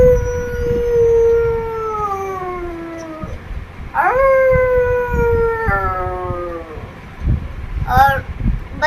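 Wolf howls, several long wavering tones that slide downward one after another, loud and close, with voices and background sound underneath.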